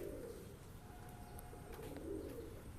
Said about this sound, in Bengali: বিভিন্ন ধরনের পায়রা রয়েছে